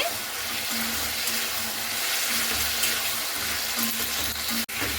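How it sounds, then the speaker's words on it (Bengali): Chopped tomatoes are stirred and sautéed with spices in a pan for a Malabar spinach (puishak) dish, producing a steady close sizzle with soft scraping from the stirring throughout. "টমেটো কাটাটা দিয়েও খুব ভালো করে নাড়াচাড়া করে নিচ্ছি।"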